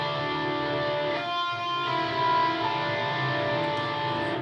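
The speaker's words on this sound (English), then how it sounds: "I put a rotary onto a kind of crunchy guitar tone." Crunchy, mildly distorted electric guitar through a rotary effect, sustained ringing notes blended into a dense, swirling wash that holds steady at moderate loudness throughout, with no voices.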